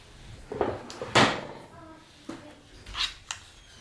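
Items being put back into a drawer during household decluttering, a few soft knocks and clatters followed by a sliding close, fairly quiet with brief breaths or murmurs between.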